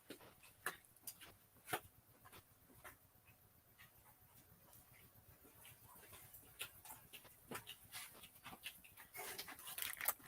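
A pet dog stirs restlessly indoors, panting faintly with soft whimpers and scattered light clicks and shuffles over a quiet room background.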